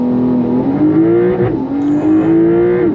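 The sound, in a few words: Porsche 911 GTS launch control acceleration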